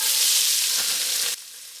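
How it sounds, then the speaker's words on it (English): Diced onions frying in olive oil in a pot after bacon has been removed, a steady loud sizzle that runs continuously and then drops sharply to a quieter hiss near the end. "And we're going to add about a cup of diced onions."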